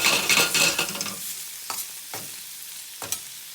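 Mushrooms sizzle loudly in a frying pan at first, then the hiss fades to a low background crackle broken by a few sharp scrapes of a spatula in the pan.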